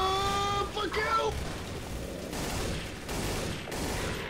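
Gunfire in the Garry's Mod video game, a dense ongoing volley of shots that crackles throughout, mixed with shouting voices and other game noise.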